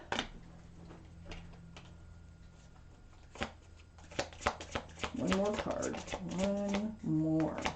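Tarot cards are shuffled and drawn by hand, giving soft riffling and light tapping clicks, quiet at first, then someone speaks over the handling.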